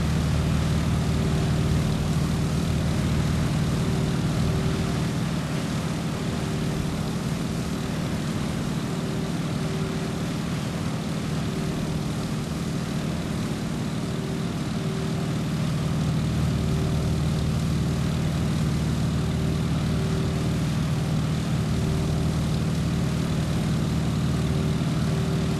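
Steady, droning propeller airplane engine in the MS Flight video game, a continuous loud hum with a fixed tonal whine that holds for the whole stretch, with a slight dip in rumble midway and no voices.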